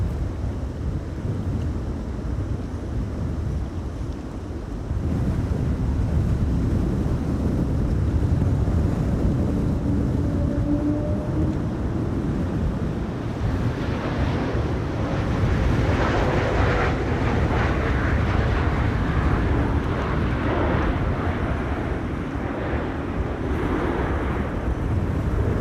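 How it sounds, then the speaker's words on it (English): A KLM Embraer 190 airliner arrives at Amsterdam Schiphol Airport during a storm, a low rumbling jet roar rising over steady gusting wind buffeting the microphone, continuous and fairly distant with no talk. "This is KLM Flight 1944, arriving from Basel, Embraer 190."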